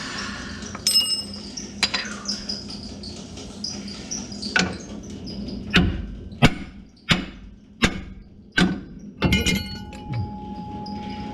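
Several sharp metallic taps of a hammer on a metal skid plate being installed on a 2019 Chevrolet Colorado ZR2 Bison, sparse at first, then a steadier run of evenly spaced strikes, close and fairly loud.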